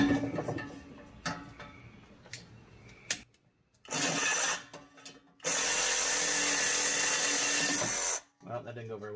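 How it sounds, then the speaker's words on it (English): Reciprocating saw with a long blade cutting through a car's exhaust pipe close to a welded muffler in a home garage, harsh buzzing bursts that stop and start, with a long steady stretch of loud cutting near the end. "I got a nice long blade in this saw. It should cut like butter."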